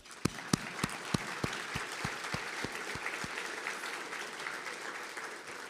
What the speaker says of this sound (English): Let's give not one clap, but many claps for all of our sponsors